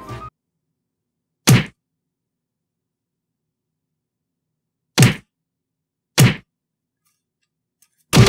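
Four sharp, hollow whacks against a Super Mario Bros. movie item, struck to make it turn on, spaced irregularly with silence between, close and loud.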